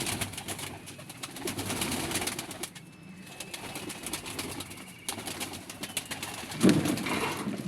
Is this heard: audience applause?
no